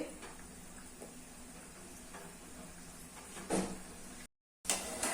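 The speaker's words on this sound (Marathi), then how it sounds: "अशा पद्धतीने सर्व कापण्या मी तळून घेते" Sweet jaggery dough pieces fry in hot oil over a low-to-medium gas flame, a steady soft sizzle with a few brief stirring or utensil clatters, interrupted by a short gap.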